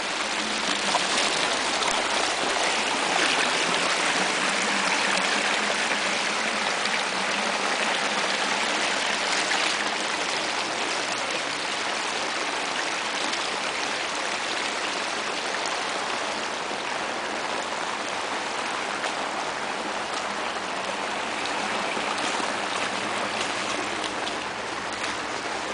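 Storm rainwater runoff rushes like a river along a street in Jasienica, a loud continuous watery roar and splashing that holds steady throughout.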